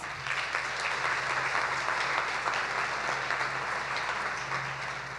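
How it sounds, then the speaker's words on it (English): A commencement crowd in Albany, New York, gives a sustained round of applause for faculty and administrators, a broad, even clatter of many hands with a low hum beneath it. "Let's give our faculty and administrator a round of applause."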